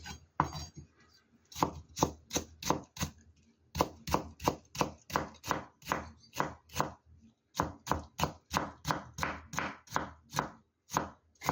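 Knife julienning cucumber thinly on a cutting board for Korean mixed noodles, a rapid, close, rhythmic series of crisp chops in steady bursts with brief pauses, no talking.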